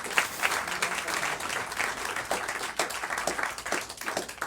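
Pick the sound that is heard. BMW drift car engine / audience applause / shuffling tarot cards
audience applause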